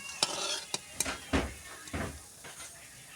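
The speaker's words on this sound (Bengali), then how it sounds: "এইভাবে আমি সবগুলো ভেজে নেব।" Crisp potato snacks being lifted out of frying oil, with several sharp clinks and taps of utensil against pan over a low sizzle, spaced irregularly at close range.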